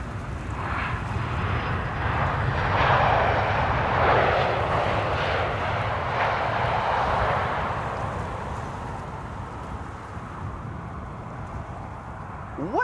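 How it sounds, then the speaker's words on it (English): An Icelandair Boeing 767 arriving from Reykjavik at Amsterdam Schiphol gives a broad, steady jet roar that swells and then slowly fades over several seconds, fairly loud and unbroken. "Iceland Air 7675500 arriving from Reykjavik in Iceland"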